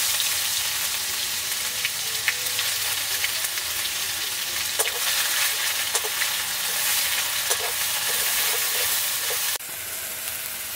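Onion paste fries loudly in hot oil with whole garam masala and cumin seeds for a village-style duck egg malai curry. A dense, steady sizzle runs throughout with small crackles and eases slightly near the end.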